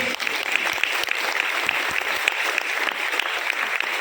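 Steady applause from an audience at a business award ceremony, a dense continuous patter of many hands clapping throughout, fairly loud and close with no talk over it.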